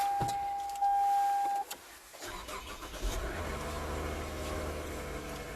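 A Japanese car's engine cranks and catches after a chime and clicks inside the cabin, then settles into a steady idle hum with faint rattles, fairly close, no speech.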